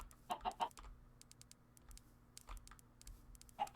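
Chickens clucking in the Minecraft video game, a few short game-sound clucks near the start and one more near the end, over a faint steady hum.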